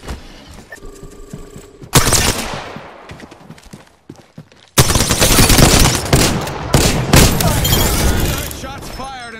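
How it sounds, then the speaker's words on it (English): Gunfire in Apex Legends: a sharp burst at two seconds decays away, then a sustained, loud spray of automatic shots with rattling impacts and bursts, with a voice speaking beneath the action. "Shots fired, and they're hitting me."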